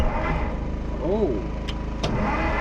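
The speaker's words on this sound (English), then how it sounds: "that thing's spinning over nice" A 1955 Jeep Willys wagon engine cranks over steadily as a continuous mid-level churning drone lasting throughout, with a couple of sharp clicks and a brief voice in the background.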